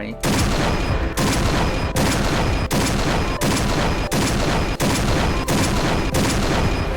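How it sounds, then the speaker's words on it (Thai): Nine loud, evenly spaced booming shots from a Barrett sniper rifle, fired at long range in the shooter game Point Blank, each blast ringing into the next with no pause between them. "เดี๋ยวลองดูระยะไกลนะว่า ซูมยิงกระสุนจะตรงไหม"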